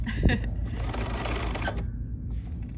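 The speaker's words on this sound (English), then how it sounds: "So I'm just going to stitch." A sewing machine stitches quilt binding with a 10D foot, a quick rapid whirring run of needle strokes lasting a couple of seconds before it stops, heard close and fairly quiet.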